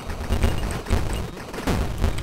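Gunfire in the video game Cavern Kings, with repeated loud bursts of heavy bullet shots firing in quick succession over a dense, booming game soundtrack.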